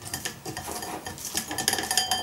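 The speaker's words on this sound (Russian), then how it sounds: "Сито вроде мелкое, только я пока не пойму, оно протирается или нет." Cooked beans, skins removed, being pressed and scraped through a fine metal sieve to make sweet anko bean paste, giving steady close scraping and light metallic clinks with no talk.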